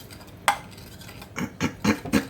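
A small whisk stirs salad dressing with vinegar in a bowl, one sharp clink followed by four rhythmic scraping strokes, close and fairly loud.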